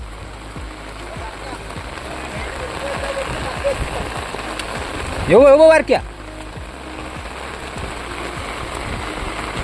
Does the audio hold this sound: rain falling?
yes